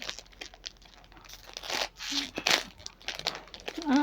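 Labubu blind box packaging being torn open, crinkly ripping and crumpling bursts of plastic and paper close up, irregular and growing louder toward the end, with a voice briefly heard.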